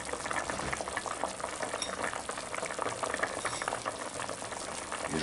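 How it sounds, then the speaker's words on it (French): Flour is stirred into a simmering beef stew, a dense bubbling and soft sizzling mixed with the close scrape and swish of a utensil, continuous and without voices. "Mélanger avec ma farine"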